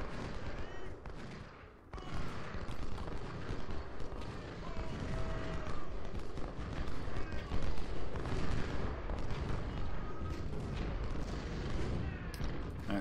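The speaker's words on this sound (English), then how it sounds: "I got the Snakefoot Brigade just close enough to get some volleys into this artillery" Musket volleys and artillery fire from the Snakefoot Brigade in Ultimate General: Civil War, Laurel Hill battle at Spotsylvania, roll on continuously as a dense crackling, booming battle din with no talk over it.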